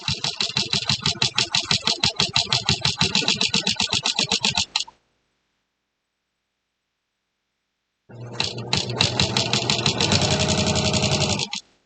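A sewing machine stitches a quilt-as-you-go table runner in fast rhythmic bursts of needle clatter, stopping for a few seconds of silence before running again, close and loud.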